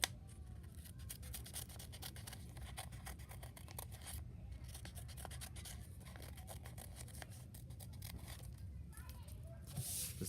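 Scissors snipping through folded paper while cutting a paper snowflake, a steady run of close, crisp cuts over low background noise with children's voices audible throughout.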